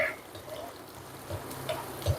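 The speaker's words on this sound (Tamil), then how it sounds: "கொஞ்சம் நல்லா க்ரன்ச்சியாக வர வரைக்கும், பச்சை வாசனை போகிற வரைக்கும் வறுத்துக்கலாம்." Soft, steady sizzling of ginger and garlic frying in oil, with occasional light clinks and stirring sounds, fairly quiet and close.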